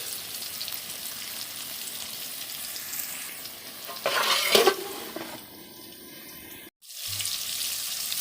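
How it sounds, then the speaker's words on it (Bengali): Potatoes seasoned with salt, turmeric and dried chili powder fry in oil, giving a steady close sizzle. Stirring scrapes swell briefly midway, and the sound cuts out for a moment before the frying resumes. "তেলের মধ্যে দেখো আলুগুলো ভেজে নিচ্ছি"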